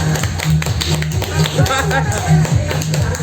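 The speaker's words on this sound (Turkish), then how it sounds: "Alkışla o zaman alkış." A child claps hands at a birthday party in short bursts of sharp, close claps, mixed in with a lively room of adult voices and laughter.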